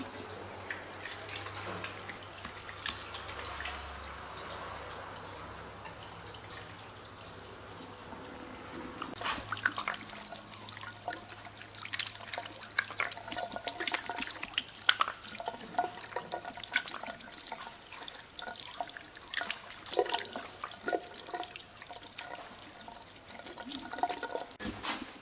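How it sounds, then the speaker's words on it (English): Tap water runs steadily while hands are washed at a sink in a food processing area, a continuous splashing wash that grows busier and louder partway through, with no talking. "wash our hands."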